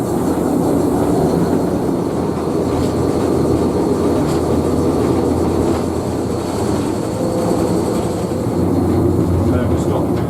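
A heritage railway locomotive pulling away under a little throttle, a steady close rumble of running gear and engine with a continuous rolling noise, while people talk nearby.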